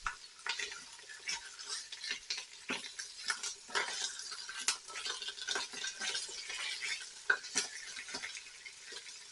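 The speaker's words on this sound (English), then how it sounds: "So I'm just going to saute and seal this lamb off." Lamb sears in an Instant Pot multi-cooker on its saute setting, with a soft continuous sizzle and frequent scraping clicks of a utensil stirring against the pot, close and quiet without voices.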